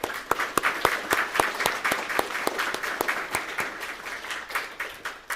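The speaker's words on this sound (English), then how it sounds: "So let's give you a round of applause." Audience applause at a Florida Tech ROTC spring commissioning ceremony, with moderate steady clapping and sharp individual claps punctuating it at a near-regular rhythm throughout.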